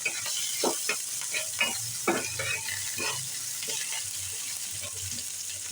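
Chopped onion sizzles and fries in a pan for a hilsa fish and cabbage curry, a steady hiss broken by repeated scraping stir strokes, close and fairly quiet.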